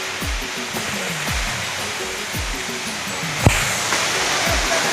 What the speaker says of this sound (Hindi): नीचे झरना ला बहुत ही खतरनाक झरना है